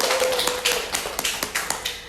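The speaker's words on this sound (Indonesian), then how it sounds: "Tepuk tangan dulu dong." A small audience gives brief applause: a short run of separate, sharp claps at an uneven rhythm, close and moderately loud, lasting about two seconds.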